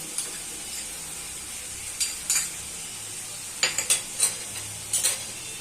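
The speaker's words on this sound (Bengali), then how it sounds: "দিয়ে আবার ভালো করে মশলাটা কষিয়ে নেব" Masala with onion paste and ginger garlic paste frying in a pan for jhal lote, giving a soft continuous sizzle broken by several sharp scrapes and clinks of a spoon stirring against the pan.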